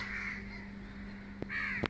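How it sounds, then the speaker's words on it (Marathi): Two harsh caws from crows ring out in dense morning fog, one stretched early and another near the end, over a steady low hum and quiet background. "कावळ्यांचा आवाज"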